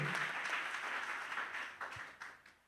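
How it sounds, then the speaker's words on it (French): Applause and cheering from a church congregation fill the space, a steady broadband patter at moderate distance that thins and fades out toward the end. "merci beaucoup pour les acclamations"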